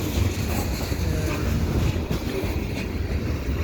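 A mixed freight train with intermodal stacks and tank cars, led by an SD70ACu locomotive, rumbles past steadily at Dorval, a dense low roar with rail noise and faint rhythmic clatter, close by and continuous throughout.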